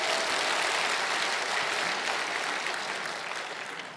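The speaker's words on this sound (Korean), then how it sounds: "박수." A church congregation at a testimony night applauds in a thick, continuous roar of clapping that holds steady and then slowly fades toward the end, loud and alone with no talking.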